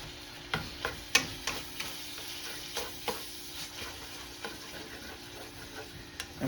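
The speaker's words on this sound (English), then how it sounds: "Now I'm going to turn the heat back up to high so we can start browning the meat." Ground meat browning in a pan over high heat with sautéed, slightly caramelized onions, while the cook makes country gravy: a low sizzle under a dozen or so irregular spatula scrapes and taps, quiet and close, with no voices.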